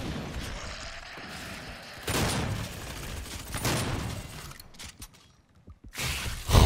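Gunfire in the Doom Xbox One beta multiplayer: loud bursts of shots and explosive blasts around two, three and a half and six seconds, with a steady rumble of combat noise between them.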